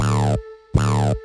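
Two long, deep bass notes from a hip-hop beat remake, with a short gap between them, loud and sustained, heard alone without drums or voices.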